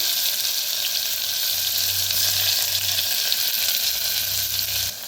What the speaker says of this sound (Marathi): कढीपत्ता टाकूया. भाजून घेऊया.